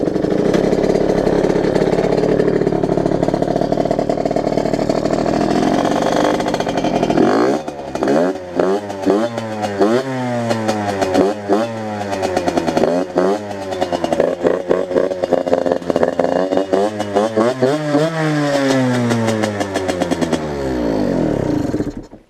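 Derbi Senda SM supermotard with its airbox being derestricted, idling steadily then starting up and revving repeatedly in loud, close rising and falling sweeps for about fifteen seconds.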